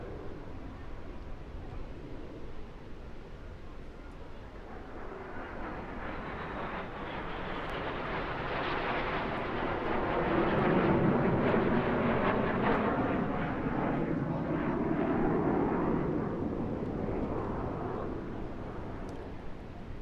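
Red Arrows jets flying the Sidewinder manoeuvre at the English Riviera Airshow, a broad jet roar that swells from a distant rumble to a loud pass near the middle and lingers as a sustained wash of engine noise.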